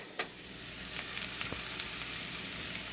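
Onions and garlic sizzle steadily in a hot pan, a continuous bright crackle with a few sharper pops and stirring scrapes, fairly quiet and close, with no talking.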